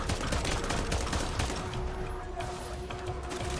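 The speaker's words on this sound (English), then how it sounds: "Why am I getting shot from every fucking direction?" Video game gunfire rattles in a dense, continuous barrage of rapid shots from several directions, steady and fairly loud throughout.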